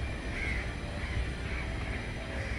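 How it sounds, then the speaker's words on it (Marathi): Birds call from the trees of Meenatai Thackeray Udyan, a park in Sector 17, Vashi, Navi Mumbai, with crow-like caws repeating over a steady, noisy outdoor background at moderate distance. "वृक्षावरती बसलेल्या पक्ष्यांचा हा किलबिलाट आहे."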